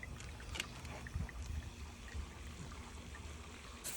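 Hot tub water drains through a siphon pipe with a low, faint gurgling and trickling flow, steady and continuous, with occasional soft knocks and splashes.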